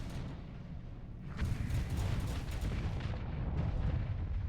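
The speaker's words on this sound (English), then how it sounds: "I love it when the Rift torpedoes hit, man." Torpedoes strike a ship in a pirate video game, landing as a heavy rolling boom that swells and rumbles for several seconds, fairly quiet overall.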